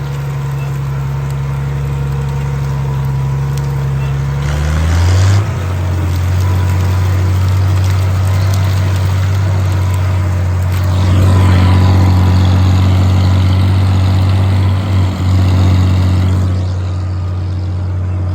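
A Farmall 560 tractor pulls a 15-foot disc harrow across a bean field and garden, its engine a steady, loud, low drone. The load shifts audibly about five seconds in, and the engine stays continuous and close throughout.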